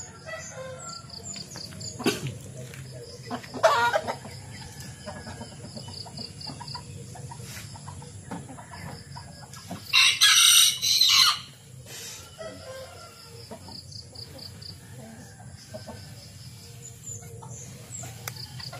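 Native chickens and roosters on a farm cluck and squawk off and on, with one rooster crowing loudly near the middle, over a low steady background.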